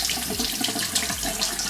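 Warm tap water runs into a sink to wet a makeup brush, a close, continuous splashing stream with small shifts as the brush moves under it.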